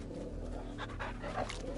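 Rapid, steady dog panting from a companion dog in Final Fantasy 16, close and fairly quiet, running through the whole short moment with no talk over it.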